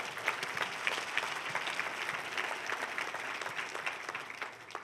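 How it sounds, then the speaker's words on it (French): A church congregation applauds in honour of Jesus during a sermon, a soft, steady patter of many hands heard from some distance, continuing evenly for several seconds without speech. "tu devrais donner une main d'acclamation à Jésus, le roi des rois"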